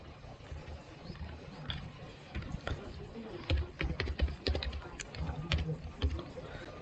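Close, fast typing on a computer keyboard while writing C code, with a steady patter of key clicks that grows denser and louder toward the end.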